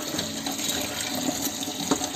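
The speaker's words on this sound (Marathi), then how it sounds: "आता स्वच्छ धुवून घ्यायची." Tap water runs over safflower greens as they are washed, a close, steady splashing gush with a few small knocks over about two seconds.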